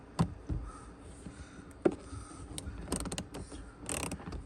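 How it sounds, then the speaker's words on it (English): A standard size ratchet loosens a bolt on a 2019-2022 Toyota RAV4 dash, giving faint, close mechanical clicks and a few scattered metallic knocks and creaks, no voice. "And this is just a standard size ratchet."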